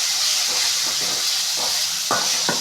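Chopped tomatoes sautéing in a pan: a strong, steady sizzling hiss with a few soft stirring knocks near the end, close and continuous, with no talking.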